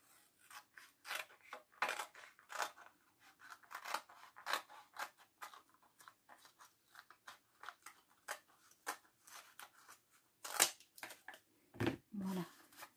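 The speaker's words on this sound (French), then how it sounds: "moi je vais le faire au ciseau" Scissors snip through paper while an album is assembled for a scrapbook, a quiet, close series of irregular crisp cuts and rustles with short pauses and a few louder snips near the end.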